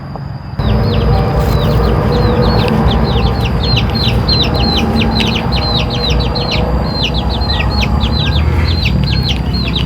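Chickens cluck and chirp repeatedly in a busy, close chorus over steady outdoor background noise, with no one talking.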